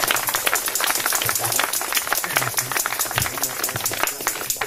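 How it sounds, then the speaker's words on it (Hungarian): Crowd clapping at a village harvest parade, dense rapid applause with sharp individual claps filling the whole stretch, loud and close, under a faint background murmur. "nagy tapsot kérnék szépen."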